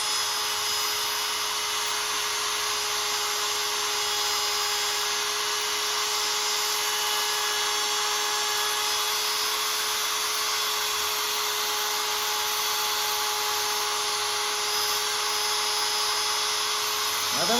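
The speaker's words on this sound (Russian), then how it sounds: "И сверлим" A Chinese rotary engraver drilling into hardened steel gives a continuous high-pitched whine with steady tonal overtones, holding unchanged for a long stretch, close and loud.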